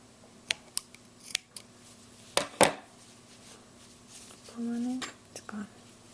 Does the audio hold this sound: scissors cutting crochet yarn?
yes